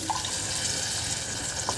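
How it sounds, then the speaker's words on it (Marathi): Ground green pea paste thinned with water pours into a pan of sautéed peas for a Maharashtrian rassa curry, a steady close trickle and splash lasting under two seconds with no talk. "आता यामध्ये आपल्याला हे वाटणाचं पाणी घालून घ्यायचं आहे"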